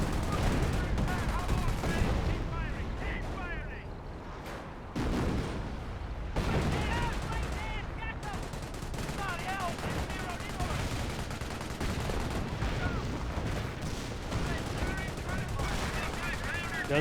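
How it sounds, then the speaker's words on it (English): A 25-pounder artillery barrage in the World War II strategy game Company of Heroes 1 rumbles on as dense, continuous gunfire and blasts for the whole stretch, with a commentator talking over the battle. "25-pounder barrage running back here."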